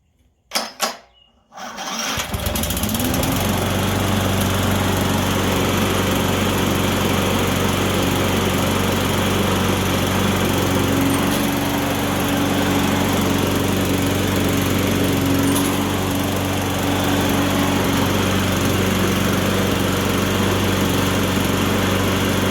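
An electric-start lawn mower, its carburetor just cleaned, catches after a brief crank and then runs steadily and loudly nearby with a constant high engine drone.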